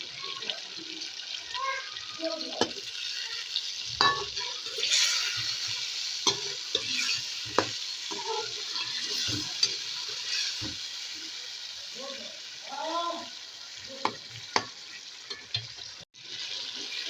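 Chicken necks with spices stir-fried in a pot, a steady soft sizzle broken by sharp metallic spoon knocks and scrapes against the pot; low voices are faintly heard in the background.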